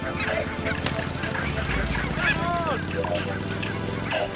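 Handsome geese flying alongside give several honking calls in the middle of a steady droning engine background, with a voice in the mix.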